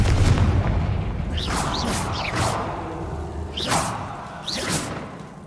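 Confringo spell blasts in Hogwarts Legacy, a series of whooshing booms and thuds arriving in quick succession over a low rumbling background.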